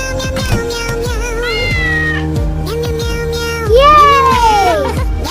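Cartoon cat meowing in an animation, several loud, close meows with rising and falling pitch, including one long drawn-out cry near the end, with no talk.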